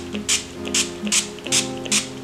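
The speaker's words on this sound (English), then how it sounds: "Now I'm going to finish off with a setting spray" NYX dewy-finish setting spray misted onto a face, five short, sharp hissing bursts in a steady rhythm, close and crisp over soft background music.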